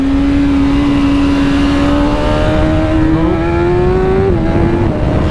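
A 2023 BMW S1000 RR motorcycle on a race track screams loud and close, its engine pitch climbing steadily under hard acceleration before dropping sharply at a gear change and pulling again.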